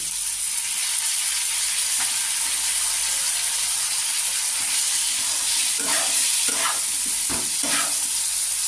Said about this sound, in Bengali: আলুগুলো আমার ভাজা হয়ে গেছে এবার আমি আটটা কমিয়ে আমি এর মধ্যে আদা বাটা দিয়ে দিলাম